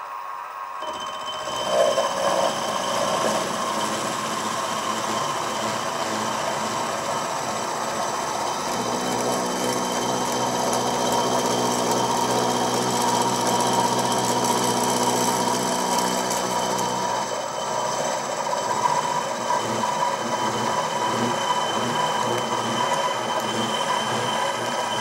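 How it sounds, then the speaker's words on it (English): A milling machine with a 10mm cutter spins at about 920 rpm while taking a cut on a steam engine pedestal. A loud, steady mechanical whir with a grinding, tonal edge runs throughout and shifts in pitch partway through. "So I've got a 10mm cutter in here, and it's running around about 920 rpm, and I'll take around about 40 thou off in total."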